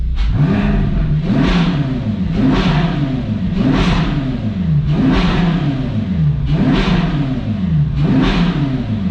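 A totaled 2012 Ferrari California's engine revving repeatedly, loud and close, with about six rhythmic throttle blips rising and falling in pitch in an even cycle.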